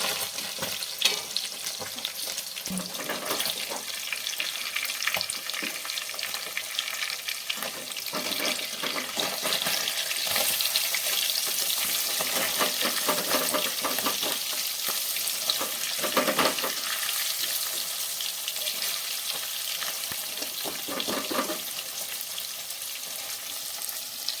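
Paneer cubes fry in oil in a pan for paneer masala, giving a continuous, close sizzling hiss. It swells and settles gently over a long stretch, with the occasional faint scrape of stirring and no talk.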